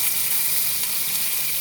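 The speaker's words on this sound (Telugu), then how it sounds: "అసలు ఆ చిటపట్ సౌండ్ ఎంత బాగుంటుంది తాలింపు వేసినప్పుడు" Tempering spices, dried red chili, garlic and curry leaves crackling in hot oil, a loud, close, continuous hissing sizzle with dense fine pops throughout.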